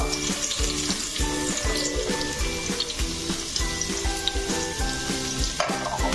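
Chopped ginger and garlic sauté in a pan for dal kichadi, a continuous close sizzle punctuated by regular rhythmic stirring strokes, with no talking.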